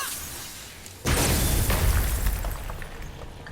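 In the video game God of War, an ice wall breaks apart with a sudden loud, booming crash. A dense, rumbling wash of shattering debris follows and slowly fades.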